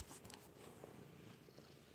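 A snuggling, affectionate cat purrs softly and steadily right up close, a faint low rumbling rhythm with no other sounds.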